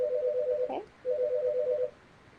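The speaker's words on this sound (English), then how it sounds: "That's my phone ringing in the background." A phone rings in the background of a school room, two electronic trill bursts separated by a short gap, clear but modest in level.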